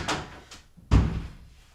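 A door in a house is handled: two light knocks or clunks, then a heavier, louder thud with a short ringing tail, close by and with no talking.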